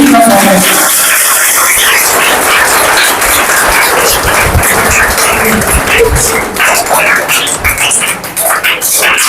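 Loud applause from an audience honouring Samaj Ratna award winners at an Independence Day (15 August) ceremony held by an educational society, a dense, sustained wash of clapping with crowd noise that thins slightly near the end.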